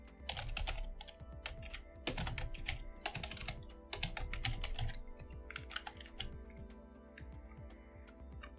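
Rapid keyboard clatter as code is typed on a computer keyboard, with bursts of keystrokes and short pauses, close and clear, with no speech.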